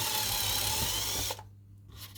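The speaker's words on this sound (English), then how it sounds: "I can just drill this straight." A power drill bores into a 12 mm thick board with a steady, close whirring whine that cuts off abruptly partway through, leaving a quiet room.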